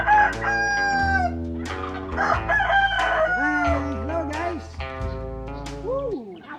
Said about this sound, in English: we are here inside the coop of our roosters